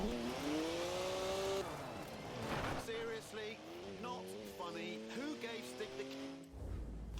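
A BMW drives in the racing game Forza Horizon 4, its engine revving up and down with rising and falling whines and some tire squeal, while someone talks over it the whole time.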